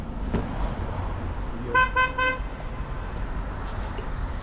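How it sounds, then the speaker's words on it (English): Car horn honking three times in a row on a city street in mainland China beside residential apartments, the toots clear above steady traffic noise. "Somebody's honking the horn constantly right there."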